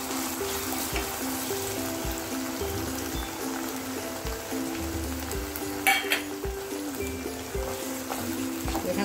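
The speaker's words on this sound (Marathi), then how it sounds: "हा कांदा भाजून घ्यायचा आहे।" Chopped onion sizzling and frying steadily in a pan for Kolhapuri akkha masoor, a continuous bubbling crackle with soft stirring scrapes and one brief louder clatter partway through.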